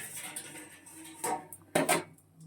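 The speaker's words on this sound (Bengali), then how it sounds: "এবার এটা ঢেকে দেবো।" A lid goes onto a cooking pan during home cooking, with a couple of sharp metallic clanks and scrapes standing out over a quiet kitchen background.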